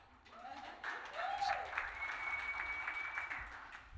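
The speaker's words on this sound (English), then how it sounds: "Now you can applaud, you can applaud" A panel audience breaks into applause, a soft, sustained spread of clapping with voices and a cheer-like tone rising over it.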